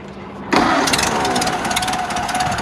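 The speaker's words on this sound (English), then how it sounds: "this motor here is a rebuilt motor. It seems to run pretty good." A freshly rebuilt Ford Model A engine catches and settles into a steady, close, loud running rhythm with a slight mechanical clatter, no talking over it.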